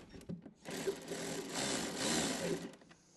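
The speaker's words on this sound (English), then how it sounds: "I'll start tightening this one back up." A bolt is power-tightened while a Cicada Audio 2000-watt stereo package is fitted to a 2024-or-later Harley-Davidson Road Glide, giving a steady, close motorized whir that lasts about two seconds before stopping.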